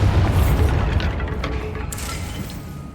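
The Bombarda spell explodes in the video game Hogwarts Legacy as a deep, booming blast with rumbling debris that fades over a few seconds, with a faint crackle and a sharp glint partway through, and no talking.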